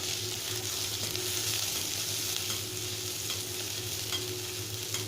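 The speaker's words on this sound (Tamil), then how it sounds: "நன்கு சிவக்க வறுத்து கொள்ளவும்" Fennel seeds, onion, curry leaves and green chillies frying in oil for egg thokku, a constant dense sizzle with faint stirring scrapes, close and steady throughout.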